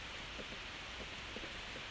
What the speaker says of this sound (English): It's raining its ass off outside.